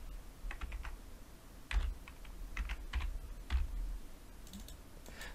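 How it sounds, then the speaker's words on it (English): Keys clatter on a computer keyboard while a material name is entered in Rhino with VRay, a quiet, close run of irregular taps in short bursts with small pauses, and no voices. "Just typing in the name there."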